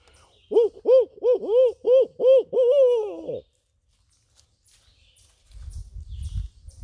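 A person imitates a barred owl during a daytime bird walk at an arboretum, giving a rhythmic series of about seven loud hoots that ends in a longer drawn-out call, followed by silence and faint low rumbling.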